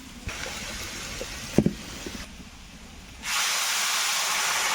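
Water poured into a hot pan of fried potatoes bursts into a loud, steady hiss of steam, after a few seconds of quiet kitchen clatter and light knocks.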